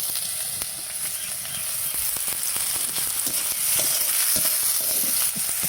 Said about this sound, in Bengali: মাছ ভাজবে দেওয়া দিচ্ছে।